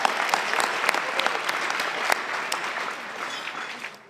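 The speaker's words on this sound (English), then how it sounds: "big applause to my colleagues at ASU" Applause from an audience at an evening award presentation at the ASU GSV Summit: dense, steady clapping from many hands, loud and sustained throughout, tapering slightly toward the end.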